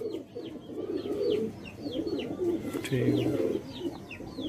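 Sialkoti pigeons coo in soft, repeated throaty bursts, mixed with faint chirps from other birds close by, while someone says a brief word.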